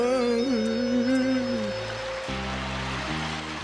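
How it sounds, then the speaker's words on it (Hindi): Cartoon sound effect of water flooding into a house, a steady rushing gush with music and a voice carrying over it. "पापा पानी यहाँ से भी अंदर आ रहा है।"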